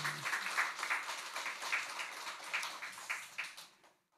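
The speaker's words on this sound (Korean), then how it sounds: "오늘 우리 경의의 박수하겠습니다" A church congregation applauds after a choir's hymn during Sunday worship, a dense wash of many hands clapping that holds steady, then fades out near the end.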